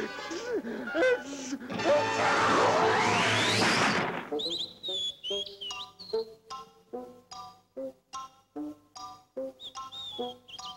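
Birds chirp and tweet in short, bright repeated calls in a springtime scene from the 1972 animated Sleeping Beauty, following a dense burst of music and voices at the start.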